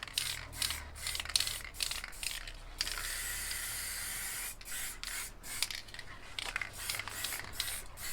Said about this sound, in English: I'll just spray over that.